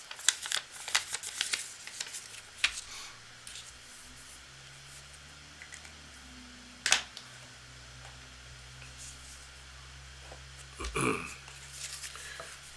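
Playing or tarot cards being shuffled before a live card reading, a run of soft riffling and tapping bursts, close and moderately loud, with quieter gaps and a sharp clack near the middle, over a faint low hum.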